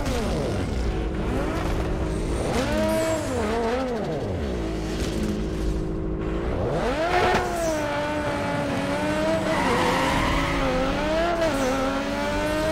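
Engine revving and tire squeal from a drag race in NFS Underground 2, with a loud, continuous engine whose pitch rises and falls through repeated gear shifts, occasional squeals and faint speech underneath.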